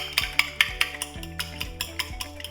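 Egg, milk, vanilla and cinnamon being whisked in a bowl for French toast, a rapid series of close, bright clinks and taps of the whisk against the dish at a steady rhythm, with no talking.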